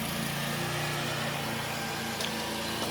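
Lawn mower cutting grass on a newly acquired property, its engine droning steadily and close throughout with no pauses or talk.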